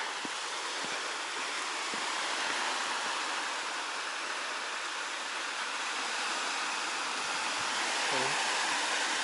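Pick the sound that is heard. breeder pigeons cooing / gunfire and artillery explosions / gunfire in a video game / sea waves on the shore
sea waves on the shore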